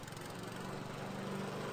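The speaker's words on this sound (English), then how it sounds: "Start up my lawnmower." A lawnmower engine running in the video game Whack Your Neighbor, a steady buzzing motor drone that holds even and close throughout with no talk.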